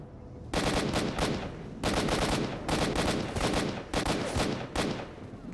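Armor-piercing rounds fired in the STALKER video game crack out in four loud, rapid automatic bursts separated by short pauses, close and unaccompanied by talk.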